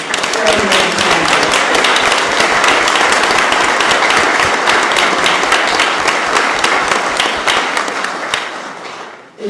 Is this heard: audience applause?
yes